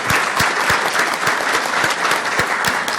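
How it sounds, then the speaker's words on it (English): Audience applause for a panel at a council meeting recap event, loud continuous clapping with distinct sharp claps close by and a rhythmic, even texture throughout. "So one more round of applause"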